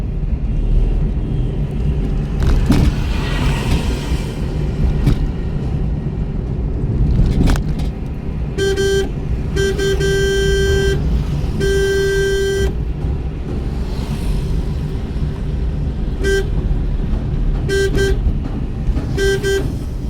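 Car engine revved in repeated bursts over a steady loud idle, with several short horn toots partway through.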